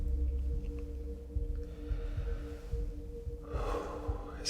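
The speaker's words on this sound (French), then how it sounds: "Excusez-moi pour les reniflements." A person sniffles and snorts several times, with quick nasal intakes near the microphone over a steady low hum, followed by a louder rushing breath at the end.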